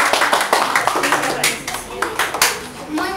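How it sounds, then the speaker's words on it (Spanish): Applause from the audience at a school closing ceremony for a children's drawing and comic workshop, a few seconds of dense clapping with voices talking over it. "Aplausos"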